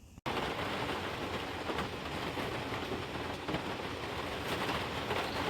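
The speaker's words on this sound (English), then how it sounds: "Storm's finally here." Steady heavy rain from an arriving storm, a dense continuous hiss that starts abruptly after a brief moment of quiet and holds evenly throughout, close and fairly loud.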